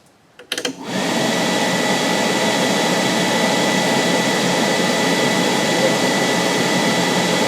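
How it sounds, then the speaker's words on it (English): A fan switched to its high setting roars up after a brief click and clatter, then holds a loud, steady broadband rush of blowing air for several seconds, close and without talk. "move fan knob to high"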